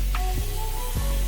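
Water from a rinse sprays onto a dirty car wheel coated in brake dust, giving a steady, broad hiss that continues for the whole short stretch without a break.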